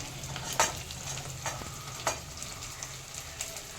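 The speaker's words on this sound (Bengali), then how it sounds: "কিছুটা মিক্স সময় ধরে ভালো মতো ভেজে নিচ্ছি।" Beans, peas, chopped green chilli and capsicum fry in hot ghee, giving a steady background sizzle with a few sharp stirring clacks. No one speaks.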